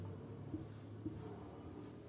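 Chalk or a pen writes "no error" on a classroom board in faint, soft scratchy strokes, with two slightly firmer taps within a quiet room tone.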